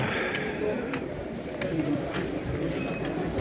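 Pigeons coo in soft, throaty murmurs at a pigeon market, with a few wing flutters and clicks nearby, and people talk quietly in the background.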